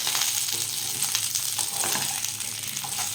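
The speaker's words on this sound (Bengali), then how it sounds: "দিয়ে দিলাম আমি ঝিঙে ঝিঙেটা দু থেকে তিন মিনিট মতো নাড়াচাড়া করে নেবো একসাথে" Ridge gourd, pointed gourd and potato stir-fried in a little oil, a steady close sizzle with soft scraping of the stirring spoon running throughout, no voices.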